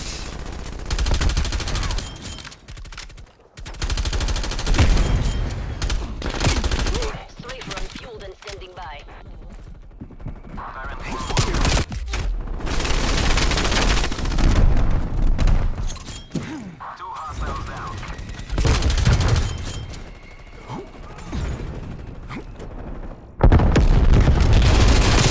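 Rapid gunfire and explosions from the video game Black Ops Cold War, a dense, continuous barrage of shots and booms that runs through the whole stretch, mixed with in-game announcer voices and a player talking over it.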